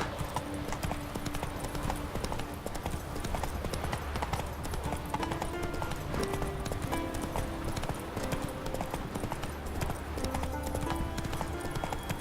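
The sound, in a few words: horse Roach trotting, from The Witcher 3 video game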